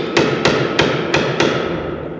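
Five sharp metallic knocks from a knockout bar driving a spur drive center out of a wood lathe headstock, evenly spaced and ringing briefly, close and loud with no talking.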